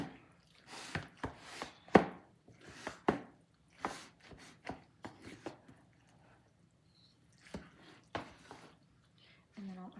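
Sauce is mixed into meat in a mixing bowl, giving irregular wet squishes and soft clacks in quick clusters, with short quiet gaps between bursts.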